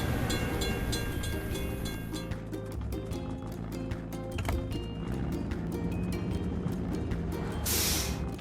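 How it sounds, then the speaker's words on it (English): Game sound of a train passing a closed railway crossing gate: rhythmic clattering of wheels over rail joints under a low rumble, with a steady repeating beat and a brief bright chime near the end. "We have to wait for the train to pass."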